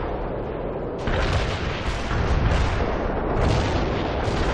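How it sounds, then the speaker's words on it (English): Artillery barrage explosions from World in Conflict roll in as a dense, continuous wall of heavy booms and rumbling blasts, loud and overlapping throughout with no talking. "We can deploy and lay down a heavy barrage."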